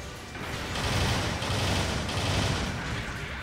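Video game weapon fire, a dense continuous rattling burst of shots with a loud, steady rushing texture, no talk over it.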